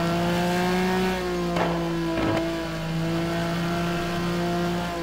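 Ferrari 550 Maranello GT1 race car in a racing game at Road America, its engine holding a steady loud drone with a brief dip and shift around the corners, close and continuous.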